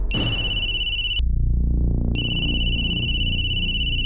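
A phone rings with a bright electronic two-tone trill in two bursts separated by a short gap, loud and close, over a low hum with no talking.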